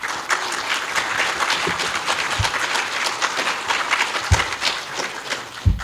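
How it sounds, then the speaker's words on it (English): An audience at a traffic operations talk applauds, a dense, sustained patter of clapping from a roomful of people with a few sharper nearby claps standing out. "Let's give him a round of applause first."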